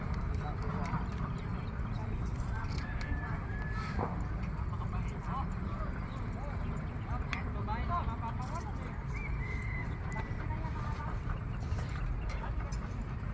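Water buffalo (carabao) racing at a village carabao race in Concepcion, Cabiao, with rapid hoof thuds amid crowd noise and people talking throughout.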